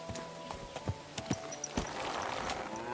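Horse hooves clip-clopping in Kingdom Come: Deliverance 2 as a called horse arrives, a run of sharp hoof thuds drawing closer over steady background game music, with no talking.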